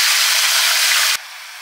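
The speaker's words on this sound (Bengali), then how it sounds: "সরষের তেল দিয়ে দিচ্ছি। ম্যারিনেট করা মাংসটা দিয়ে দিচ্ছি।" Marinated chicken dropped into hot mustard oil, giving a loud, steady broadband sizzle that runs for about a second before dropping abruptly to a quieter, continuing hiss, with no talking.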